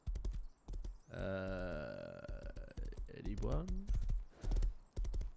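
Horse hooves clip-clopping in the survival game Rust at a modded-server outpost, a steady run of sharp close hoofbeats throughout, with a neigh in the middle and someone talking over them.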